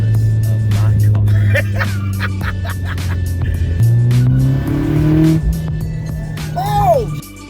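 A 500 WHP built Mitsubishi Evo X MR pulling hard after a downshift, engine drone climbing steadily in pitch through the gear, loud from inside the car, ending with a brief rising whistle.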